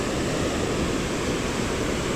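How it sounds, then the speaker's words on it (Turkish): A waterfall in the mountains near Kotor, Montenegro, with water rushing very forcefully, pours out as a steady, loud broadband roar, constant and close, with no voices. "Böyle bir şelale var herhalde şurada."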